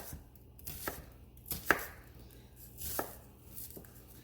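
A knife rough-chops an onion on a cutting board for a turkey shepherd's pie, giving a handful of separate, crisp thuds at an unhurried, uneven pace, close and quiet, with no talking.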